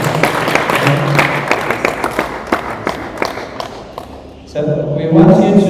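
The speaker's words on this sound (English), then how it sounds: "So let's give them a round of applause as well." A temple audience at an ISKCON Durban class claps in a loose, scattered round of applause that thins out over several seconds, followed by a louder stretch of room sound and voices.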